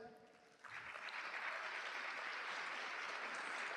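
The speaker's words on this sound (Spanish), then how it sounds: "voy a pedir un fuerte aplauso para Ainhoa Iglesias" A karaoke audience breaks into applause for a jury member: after a brief quieter moment, a broad wash of clapping from many hands starts abruptly and holds steady.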